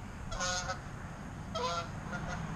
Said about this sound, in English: That loud goose right there usually comes through by itself.